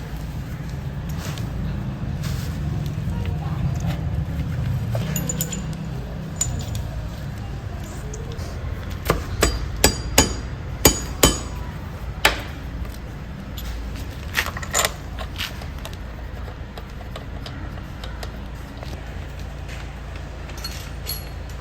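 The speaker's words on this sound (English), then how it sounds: "Now he's putting the brake pads in." Metal brake pads and clips clink and tap as a mechanic fits new pads to a BMW S1000 RR motorcycle during its first major service. A cluster of sharp, close clicks comes in the middle, over a low steady workshop hum.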